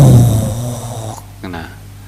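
A man imitates snoring with his voice during an Islamic study lecture, a loud rasping snore at the start that fades, followed by a brief voiced sound.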